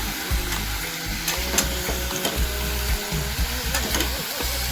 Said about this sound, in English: we're just going to stir this a little bit